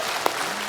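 Studio audience applause on a Hindi comedy talk show as a singer takes the hot seat; a brief, dense burst of clapping with one sharp clap standing out.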